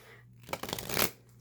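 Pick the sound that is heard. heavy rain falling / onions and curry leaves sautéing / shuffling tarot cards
shuffling tarot cards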